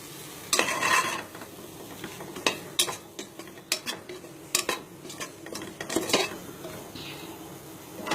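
Coriander, turmeric and chili powders are stirred into mushroom kulambu in a pan: a spoon scrapes and knocks against the metal in irregular bursts over a soft sizzle, close and fairly loud.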